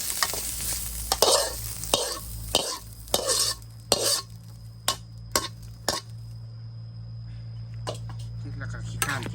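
Pork stir-fried in hot oil for rad na, with repeated sharp scrapes and clacks of a spatula against the pan over a steady low hum, louder at first and sparser toward the end.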